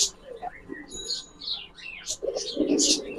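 Giribaz pigeons in a shop give soft chirps and coos, close and moderately loud, mixed with a voice talking nearby.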